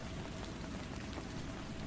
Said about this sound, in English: The rain continues to fall,